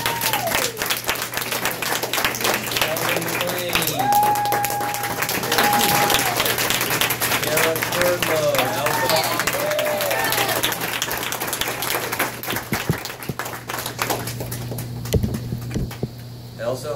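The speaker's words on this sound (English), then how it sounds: "give her a round of applause" Audience round of applause during a Saturday training session, continuous dense clapping with cheers and whoops on top and a steady hum underneath, fading near the end.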